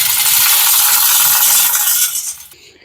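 A ratcheting chain hoist lifts an engine in a garage, making a steady loud mechanical clatter of pawl clicks and rattling chain that fades out toward the end.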